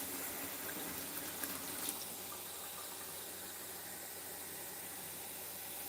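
Tap water runs steadily into a pot, a continuous, fairly loud rushing hiss with a couple of faint knocks early on and no talking.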